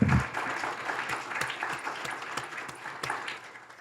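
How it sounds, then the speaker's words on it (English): Sustained applause from a town hall council meeting audience acclaiming newly elected council members, a steady dense patter of many hands clapping at moderate distance, continuing throughout with no talking. "I ask that we clap to express our acclamation"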